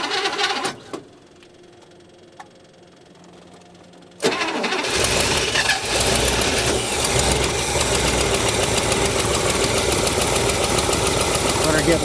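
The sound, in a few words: old International pickup truck engine running after revival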